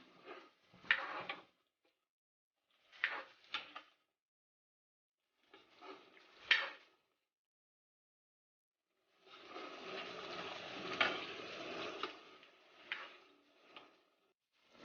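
A utensil stirring eggs frying in oil in a pan for egg curry gives short clusters of clicking taps and scrapes separated by silences, then a longer stretch of busier clattering before more brief taps.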